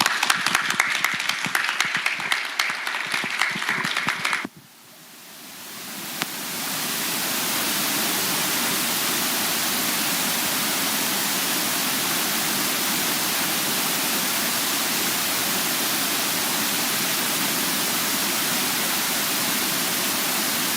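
Audience applause at a health insurance conversation event: scattered clapping at first, a brief dip, then a dense, sustained wash of clapping that fills the room.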